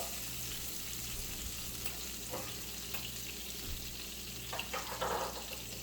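Butter melting in a pan for homemade alfredo sauce gives a steady, moderate frying sizzle with a faint hiss and a few soft clinks of a whisk stirring near the end, no voices.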